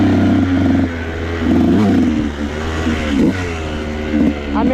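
A KTM 150 SX two-stroke motocross bike riding through woods at Mines and Meadows, its engine buzzing steadily with repeated throttle blips and revs rising and falling, close and loud throughout.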